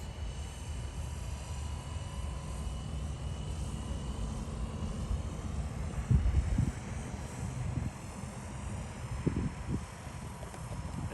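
A Blade 230S Smart RC helicopter flying outdoors in light wind, its steady rotor and motor whine held at a moderate distance, with a couple of brief wind buffets and no talking.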